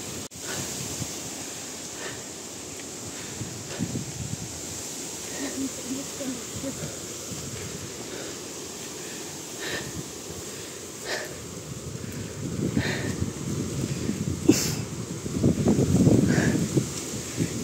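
Strong wind gusts roar across a microphone on a mountain trail at High Junk Peak in Hong Kong, a steady broadband rush that swells louder toward the end.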